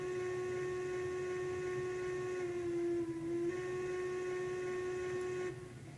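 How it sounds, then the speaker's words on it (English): A steam locomotive whistle in a railroad video game holds one steady, harmonically rich tone for about five seconds before cutting off. It is faint and even, sitting over a low background hum. "Can you hear my whistle? Just over there in the distance."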